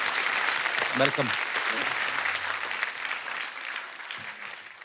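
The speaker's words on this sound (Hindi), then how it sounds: "अरविंदर पाजी के लिए जोरदार तालियां हो जाए।" Studio audience on a comedy talk show claps in a broad, steady wash that fades gradually, while a voice speaks briefly over the applause near the start.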